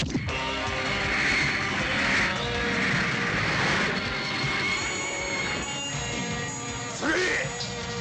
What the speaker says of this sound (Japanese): アンドラモン戦闘機発進